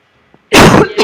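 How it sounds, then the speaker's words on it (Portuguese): One loud, close cough, a harsh throat-clearing burst followed by a second shorter one, after near silence. "E eu vou tossir."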